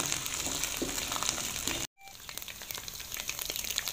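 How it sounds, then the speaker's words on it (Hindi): Ginger and green chillies fry in hot oil with a steady, dense sizzle that cuts off abruptly partway, then returns softer and crackling. "2 से 3 मिनट तक फ्राई करेंगे ताकि जो अदरक का कच्चापन है वो ख़त्म हो जाए"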